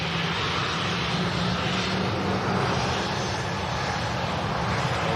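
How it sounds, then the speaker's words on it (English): A Ryanair airliner with split scimitar winglets passes overhead, its engine roar a steady, loud broadband rumble that holds evenly throughout with no voices. "Split scimitar winglets on the Ryanair aircraft and a wave."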